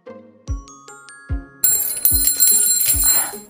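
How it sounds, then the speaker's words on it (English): A silver wall-mounted dog potty bell, used for training a one-year-old Maltipoo, rings in a series of bright metallic jingles, each strike followed by ringing decay, loud and close. "So this is the potty bell that we use."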